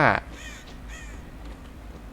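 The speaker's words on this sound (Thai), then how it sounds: "ผมได้ยินเสียงอีกา" Crow caws in the horror game Dead by Daylight, two short raspy calls close by after a loud burst, over quiet low game ambience.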